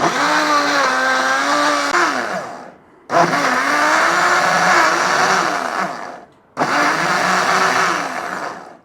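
An electric blender whirs loudly, blending a ginger chicken marinade with oil in three long bursts separated by short pauses, its motor pitch wavering as the mixture churns.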